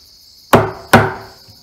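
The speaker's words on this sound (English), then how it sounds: "I just keep scoring this down." Two sharp, hard wooden knocks about half a second apart as a chisel is driven to score a mortise in timber by hand, each strike ringing briefly before decaying, with a steady insect chirp behind.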